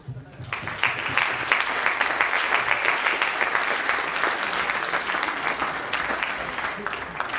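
Seminar audience applauding to welcome a speaker, a dense wash of clapping that starts abruptly, holds steady at moderate loudness for several seconds, then thins out toward the end.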